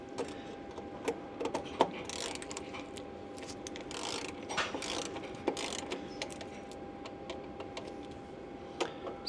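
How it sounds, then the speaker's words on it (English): A torque wrench tightens small bolts on an A320 engine oil pressure switch, giving soft ratcheting clicks and faint metallic ticks at close range over a quiet hangar hum. "Now we're gonna torque the bolts."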